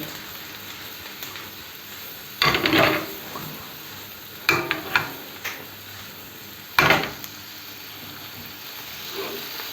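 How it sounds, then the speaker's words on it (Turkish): Spiced chicken gizzard stew being stirred in a pan, three short bursts of scraping and sizzling clatter standing out over a steady low background, with no talk. "İlave ettikten sonra karıştırıyoruz"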